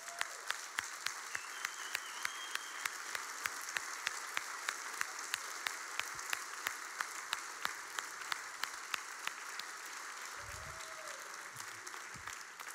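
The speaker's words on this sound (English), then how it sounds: "Can we all stand and give these folks a big round of applause" Church congregation standing to applaud the staff, a steady wash of crowd clapping with sharp, regular claps close by, fairly quiet overall, with a brief murmur near the end.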